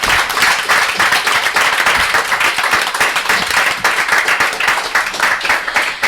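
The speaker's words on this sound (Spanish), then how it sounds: "les regalamos un aplauso con las personas que están aquí presentes." An audience applauds at a commemorative event, steady dense clapping close and loud throughout with no pauses.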